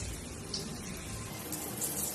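Water runs steadily from a tap while curly hair is washed, a close, continuous splashing hiss with slight shifts in flow throughout.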